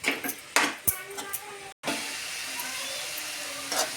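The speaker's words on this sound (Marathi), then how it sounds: "थोडंसं मिक्स करून घेते असं" Grated coconut is stirred into a radish greens curry in a pan, heard as a few close spoon clinks and scrapes against the pan, followed by a soft hiss of cooking.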